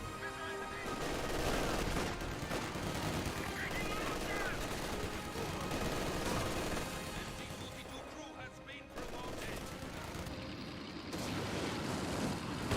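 In Company of Heroes 2, a Vickers machine gun fires amid dense battlefield gunfire and explosions, loud and continuous bursts layered over the whole stretch, with a voice talking over the fighting.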